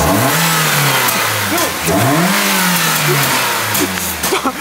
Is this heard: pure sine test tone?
no